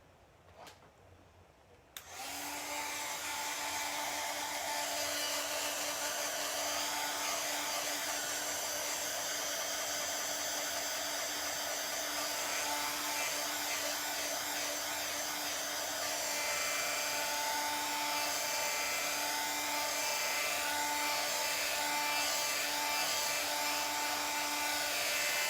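A hair dryer switched on after a brief quiet moment, then a steady loud whirring roar close by for the rest, drying a Chalk Couture chalk transfer, with no speech over it.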